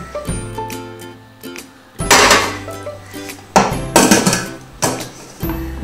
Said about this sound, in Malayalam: നല്ലപോലെ അരിവ് ഒട്ടിച്ച ശേഷം കുക്കറിൽ വെച്ച്